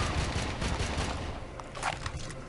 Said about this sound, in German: dann schießt er nochmal kräftig